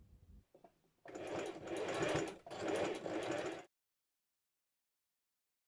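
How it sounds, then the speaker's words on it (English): A sewing machine stitches the sleeve cuffs and waistband of a sweatshirt turned inside out, running in two close bursts of fast whirring and then falling silent. "take it to the machine, turn the garment inside out and stitch on the sleeve cuffs and the waistband"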